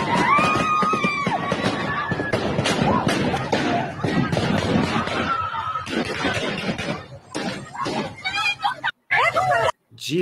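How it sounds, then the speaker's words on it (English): Gunfire during a street protest by Afghan women, with sharp cracks and bangs scattered through a loud, shouting crowd and general outdoor commotion. "Just to be clear, that's gunshots, right?"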